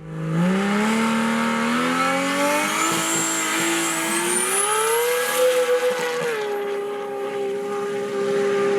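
A 1000+ hp Nissan GT-R drag racing down a runway, its engine roaring loud and close as it climbs steadily in pitch through the gears, with a high whine above the roar.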